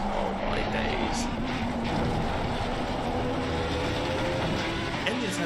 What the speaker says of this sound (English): Engine sounds quite quiet, doesn't it?